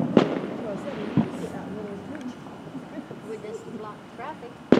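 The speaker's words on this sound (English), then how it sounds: "see if we can get any more fireworks setting off coming from over there" Distant Fourth of July fireworks crack and pop in a few scattered bursts at night, sharp reports with faint echoes over quiet background and some low voices nearby.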